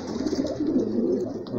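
Barred pigeons cooing close by, soft low throaty coos rolling continuously in a steady murmur, with no talking over them.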